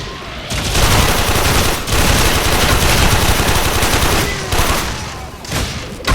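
Rapid automatic gunfire from the video game Warframe, loud and dense, sustained bursts of overlapping shots with a few brief pauses between volleys.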